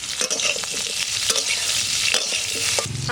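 Potatoes frying in a little oil with a pinch of turmeric, a steady close sizzle broken by scraping stirs and a few sharp clinks of a utensil against the pan.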